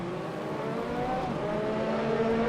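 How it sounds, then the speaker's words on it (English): A P4/5 Competizione race car in the RaceRoom racing game at Monza holds a steady engine drone that slowly rises in pitch as it accelerates, moderately loud with no talk. "Engine sounds are pretty nice and everything."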